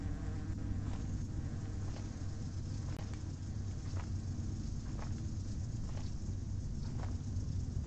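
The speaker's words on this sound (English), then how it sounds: "Why are there so many damn bees?" Buzzing bees in the video game Hungry Lamu make a continuous droning hum with faint pulsing swells, low-level and steady throughout.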